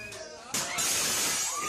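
A glass table shatters in a home, a sudden bright crash of breaking glass that cuts in after a quieter start and rings on with scattered fragments, with faint voices around it.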